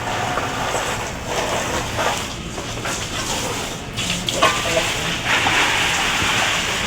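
Steady rain patters and hisses continuously over a garden, with occasional heavier drips standing out against the even wash of noise.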